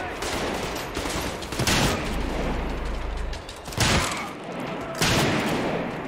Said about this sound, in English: Long range shotgun.